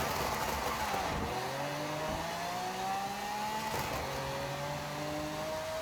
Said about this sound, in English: gear changes are much better this time around